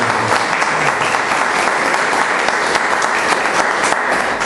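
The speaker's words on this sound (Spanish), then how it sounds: "Démosle ese fuerte aplauso." A church congregation gives loud, sustained applause during a worship service, a thick, continuous wash of many hands clapping close by without speech.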